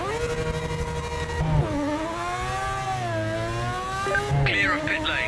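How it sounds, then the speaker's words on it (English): A Porsche GT RSR racing car engine in a motor racing game, its pit limiter off, accelerating hard out of the pit lane on cold tyres: a loud, steady, rising engine whine that dips and climbs through gear changes. "Let's turn that pit limiter off and just floor it straight out of here on cold tyres."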